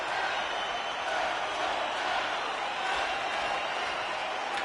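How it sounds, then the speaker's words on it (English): An arena crowd roars without a break in an NHL 26 hockey game, a steady dense wash of cheering noise at even loudness throughout, with no talking. "You can feel the energy in this crowd."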